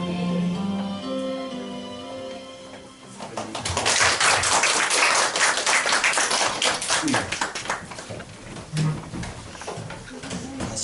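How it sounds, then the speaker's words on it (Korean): A church congregation at a Christmas thanksgiving service breaks into dense applause that builds after a quieter musical opening and then carries on loud and sustained, with brief voices mixed in. "다시 한번 큰 박수 부탁드립니다"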